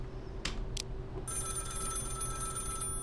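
A telephone rings in the video game Contraband Police: a steady electronic ringing starts partway through and continues to the end, heard close and clear over a low background hum.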